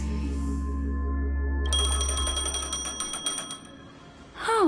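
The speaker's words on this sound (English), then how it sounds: "A phone." A telephone rings in a PlayStation video game, with bright electronic bell-like trills that repeat rapidly for a couple of seconds over a low game hum, then end in a rising swoop.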